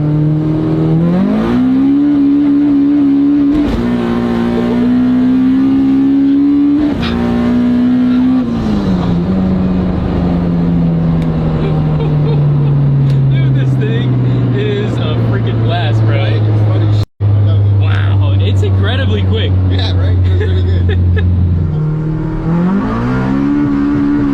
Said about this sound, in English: So we're gonna do a little nitrous hit.